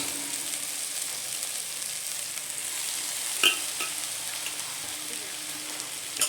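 Soaked puffed rice sautéing in a pan over a low gas flame, a soft continuous sizzle with occasional stirring scrapes and one sharp clink partway through.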